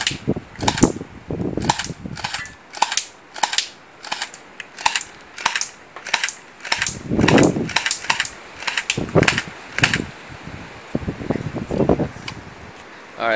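An electric automatic airsoft pistol from Stunt Studios fires at a nearby target in a steady series of sharp, snappy shots, roughly twenty cracks spaced about half a second apart, loud and close with no talking.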